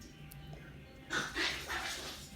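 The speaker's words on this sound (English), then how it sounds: "And there go my dogs." Several dogs bark in a home, a burst of muffled, fairly close barks starting partway through after a quiet stretch.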